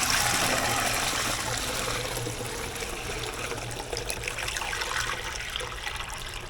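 Cooled cream ale wort pours into a sanitized fermenter already holding about 2.5 gallons of water, a steady close splashing, trickling flow that gradually softens over several seconds.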